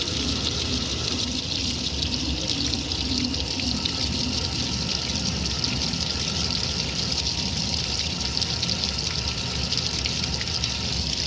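Water gushes steadily into the drum of a 1964 Speed Queen A49 washing machine, a constant rushing hiss that fills the whole stretch without pause or voices.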